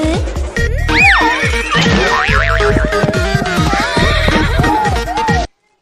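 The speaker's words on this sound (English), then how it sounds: "H for horse." A cartoonish horse neigh with a springy boing in a children's alphabet song, a loud whinny rising and wavering over bouncy music, with a rhythmic beat throughout and a sudden stop at the end.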